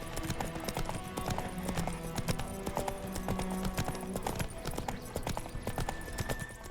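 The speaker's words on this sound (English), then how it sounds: "Vesemir and Geralt took to their horses for a short ride into town" Horses ridden by two characters in the video game The Witcher 3 clip-clop in a steady, overlapping rhythm of hoofbeats on a road, moderately close, with no talking.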